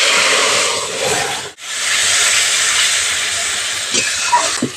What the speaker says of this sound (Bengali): যে মশলার পেস্টটা তৈরি করে রেখেছিলাম মশলার পেস্টটা দিয়ে দিচ্ছি